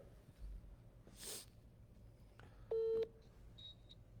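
A short electronic tone sounds alone, then a couple of faint beeps follow, like a phone dialing or connecting.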